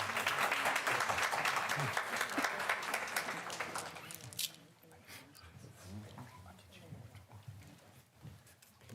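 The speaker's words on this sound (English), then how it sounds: "Let's give those young men, our own students, another thunderous round of applause." Applause from a school board meeting audience honouring student performers, dense and loud for the first four seconds, then thinning into scattered claps and murmuring voices.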